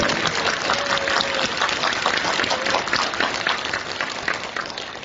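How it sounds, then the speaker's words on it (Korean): A crowd claps at a Democratic Party rally in Jeonju reporting on the Yoon Suk-yeol impeachment, a dense, continuous wash of applause that fades slightly toward the end. "박수 한 번 크게 보내주시기 바랍니다"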